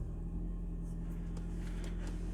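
A car engine running after starting up, a steady low idle rumble close by that persists throughout with a few faint clicks above it.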